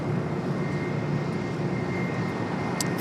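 An airliner touches down on runway 25 left at LAX, a loud steady engine roar with broad rushing noise that holds for a few seconds.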